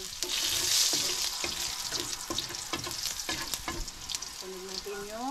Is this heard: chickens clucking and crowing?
no